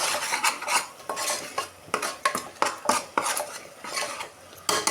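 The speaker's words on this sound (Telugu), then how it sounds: "ఉల్లిపాయ అయితే చక్కగా మగ్గుతున్నాయి కదా" Onions sauté in a pan and are stirred briskly, a rapid run of metallic spatula scrapes and clinks over a faint sizzle, close and with no talk.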